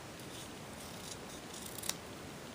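Scissors snipping paper while making a handmade Valentine's card, a soft crisp cut near the end over a faint hiss, close and quiet with no voices.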